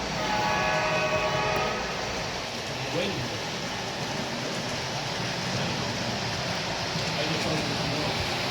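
A train rolls steadily nearby in an outdoor setting around the High Level Bridge, giving a continuous rumbling, hissing wash of rail noise with one brief tonal squeal that carries through the whole stretch.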